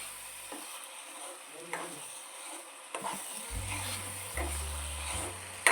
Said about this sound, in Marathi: आता हे चांगलं हलवून मिक्स करून घेऊ